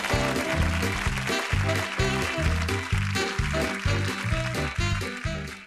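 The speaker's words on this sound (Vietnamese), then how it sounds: "Xin quý vị dành một tràng pháo tay đón chào họ." A studio audience on a Vietnamese TV dating show applauds to welcome a couple, a broad, steady clapping wash running under loud, rhythmic show music with a thumping beat throughout.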